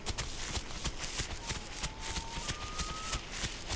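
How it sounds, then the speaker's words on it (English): Heavy dinosaur footsteps from the survival game The Isle thud in a steady repeating rhythm, close and fairly loud, with a faint tonal whine in the background. "I hear your footsteps."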